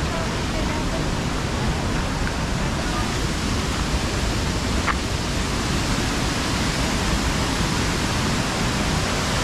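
Kappakkanam waterfall in Vagamon, Kerala, gives off a steady, loud, unbroken rush of falling water, heard up close for the whole stretch.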